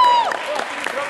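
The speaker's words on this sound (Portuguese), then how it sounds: "A patroa bate palmas" Spectators clap after the winning point of a table tennis match, a short burst of scattered applause that follows a brief high tone and carries on under some talk.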